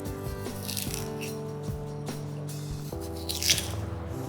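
Raw potatoes being cored for stuffing, a run of close, crunchy scraping and gouging strokes with faint rattles, repeated at an uneven pace with no talk.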